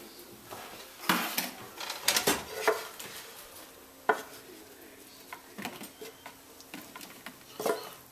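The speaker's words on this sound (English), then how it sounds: "I'm going to go ahead and grab this plate." Dishes and a plate clink and clatter in a home kitchen while making healthy chicken fried rice, with irregular sharp knocks and scrapes of crockery and utensils, fairly close.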